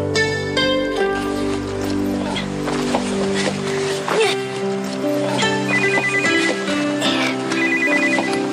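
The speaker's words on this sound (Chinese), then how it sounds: "你帮我卡一个电话蔡佩珍好不好？" A telephone rings in repeated short bursts over background music and room noise, with a voice heard briefly around it.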